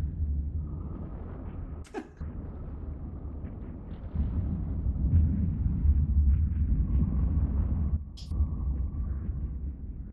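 Ships fire weapons at an Aeon in EVE Online. A deep, continuous rumble of blasts swells midway and keeps going, broken by two sharp bursts near the start and the end.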